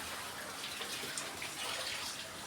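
Water is poured into a cooking pan of spice mixture, giving a faint, steady splashing hiss for a couple of seconds.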